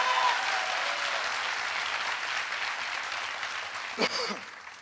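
An audience at a motivational talk claps steadily for several seconds, a dense, even roar of many hands that slowly thins toward the end, with no talk over it.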